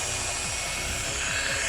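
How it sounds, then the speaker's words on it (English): An old-school rotary buffer with a 3-inch pad, set on speed 1, spreading polish across the windshield of a Lancia Stratos HF: a continuous close whirring hum with a faint wavering tone, steady throughout and without speech. "This is actually a rotary buffer, like old school."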